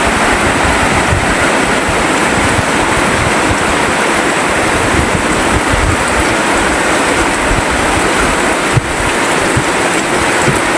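Strong rushing water pours steadily near a leaking house, a loud continuous broadband roar with no pauses or voices.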